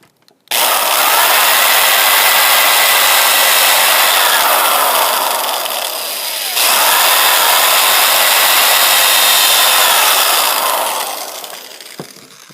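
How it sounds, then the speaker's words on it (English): A power drill bores holes through a canoe seat frame in two long, loud whirring runs, each winding down briefly near the middle before the motor spins up again and trails off at the end, with no voices. "So then I'm just going to take my drill"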